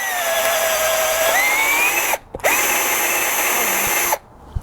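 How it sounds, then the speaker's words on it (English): A power drill bores dowel holes for a DIY paper towel holder, a close, loud whine that rises in pitch as it spins up, cutting out twice briefly before starting again, with no talk. "It's drilling though, nothing really exciting."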